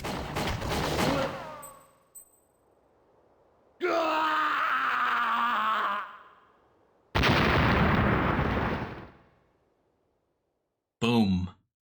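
Several loud, noisy explosions in the N64 game Winback, from explosive barrels and boxes and an exploding enemy, each lasting a couple of seconds, with a short crackling burst at the end.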